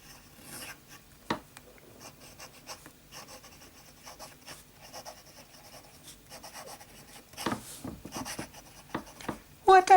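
A fountain pen with Kaweco Sepia Brown ink moves across copier paper, giving soft scratchy strokes that come in short bursts, with a few sharper taps and louder scratches near the end.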